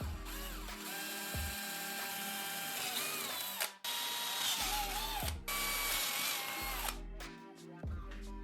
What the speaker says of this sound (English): I drilled holes through where the bolts will hold both parts together.